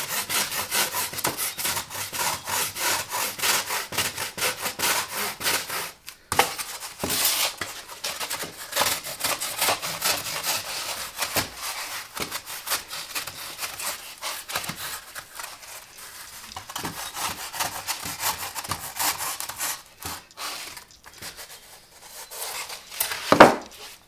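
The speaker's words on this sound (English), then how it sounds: "take the rasp to it. Just kind of just want to work this down just a little bit." Wood rasp worked back and forth over a carved Wookiee costume foot, giving a dense run of rough scraping strokes close up, with a short pause near the start and a faster, lighter patch toward the end.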